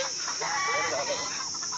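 Village chickens cluck and squawk close by in a short, busy burst of overlapping calls against outdoor background noise.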